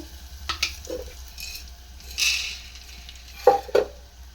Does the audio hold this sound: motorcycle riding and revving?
no